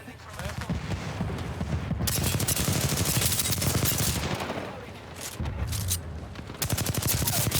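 Bursts of rapid video game gunfire crackle loudly and almost continuously in a shooter match, dense volleys with brief pauses, while a player's voice talks over them.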